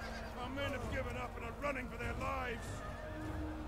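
A horse in a Game of Thrones mod battle game lets out several wavering neighs and whinnies, loud and close, amid game battle noise, with speech also present.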